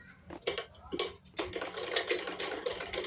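A sewing machine stitches along the edge of a lined blouse, starting with a couple of short stuttering bursts before settling into a steady close mechanical whir.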